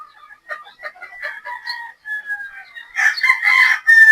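Pullets cluck and chatter close by in a series of short calls, and a rooster breaks into a loud crow toward the end.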